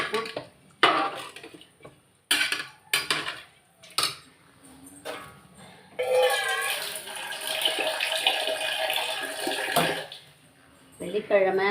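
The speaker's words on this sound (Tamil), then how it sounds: "இப்போ இன்னும் கொஞ்சம் தண்ணி ஊற்றணும், பத்தாது." Water poured into a cooker holding rice for tomato rice, splashing in bursts with pot clatter, and a longer continuous pour in the middle while someone talks around it.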